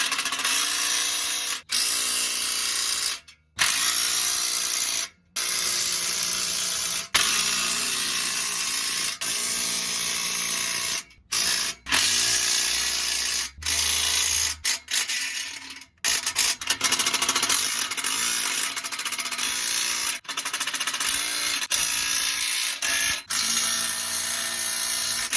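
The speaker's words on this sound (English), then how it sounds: "I broke my AirPod Pros with the impact gun noises" Pneumatic impact gun hammering in loud, sustained bursts while fitting an exhaust resonator and muffler, with a few short pauses between runs.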